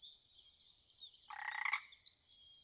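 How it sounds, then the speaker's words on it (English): An hourglass tree frog calls once in a short, raspy burst of about half a second, clear against a steady high background drone. "Hourglass tree frog."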